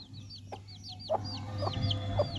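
Chickens cluck softly in short repeated bursts while eating, with a few chirpy calls, close by over a low background hum.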